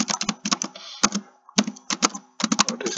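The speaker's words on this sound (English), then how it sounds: "Now, you can type your question and ask ChatGPT something." Quick bursts of computer keyboard typing as a question is entered, clusters of close, crisp key clicks separated by short pauses, with no voices.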